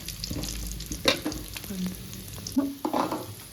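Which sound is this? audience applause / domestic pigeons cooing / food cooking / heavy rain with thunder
food cooking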